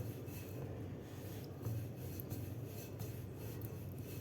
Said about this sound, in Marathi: हलक्या हाताने आपल्याला हे तेलची लाटायची आहे